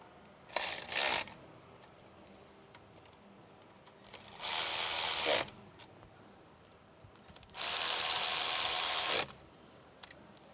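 Three bursts of a power tool driving bolts during installation of a 3.0 L supercharger kit on a 2024+ Mustang GT, a short double whir followed by two longer, louder buzzing runs separated by quiet pauses.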